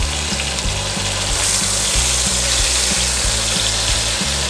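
Ribeye steak searing in butter in a hot pan, a steady loud sizzle running throughout with low rumbling thumps underneath.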